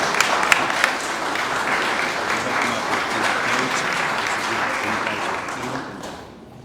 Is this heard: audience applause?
yes